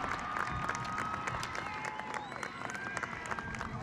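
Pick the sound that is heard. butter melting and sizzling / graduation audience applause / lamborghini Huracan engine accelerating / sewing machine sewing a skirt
graduation audience applause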